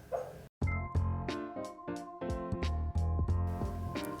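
A small female dog makes a run of soft, muffled yips and whimpering barks while dreaming, about a dozen short nasal bursts in an uneven rhythm, close and fairly loud with no talking over them.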